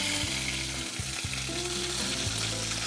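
Ginger and garlic paste frying in a hot pan in a home kitchen, with a steady loud sizzle and occasional stirring scrapes throughout, close up and without talk.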